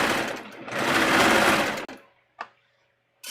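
Sewing machine stitching a swimsuit, a loud continuous whir for nearly two seconds, then stopping, followed by a couple of short isolated bursts of motor sound.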